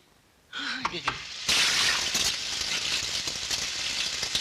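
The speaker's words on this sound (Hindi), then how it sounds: "ये आवाज कैसी? पानी की आवाज होगी।" Water splashing and rattling starts abruptly, then settles into a steady, fairly loud rushing wash with scattered clinks, preceded by a brief tonal burst.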